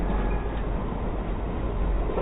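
A train running steadily during driver training, with a continuous low rumbling drone and no voices over it.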